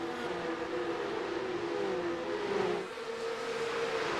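Porsche Cup race cars accelerating on the Imola circuit, their engines wailing in rising, overlapping tones heard from a distance, with one pitch sweep dropping away as a car passes.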